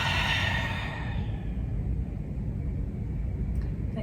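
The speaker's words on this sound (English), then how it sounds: "Exhale out." A long, breathy exhale during a calming yoga practice. It starts as a fuller rush of air and then fades into soft, steady breathing. The breath is close and alone, with no talking.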